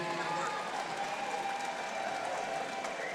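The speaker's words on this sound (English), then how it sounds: "a round of applause is due right now for both of the fighters in this cage." A crowd applauds the two fighters in a cage at an MMA event in Flint, Michigan, a steady wash of clapping heard at a moderate distance with no break.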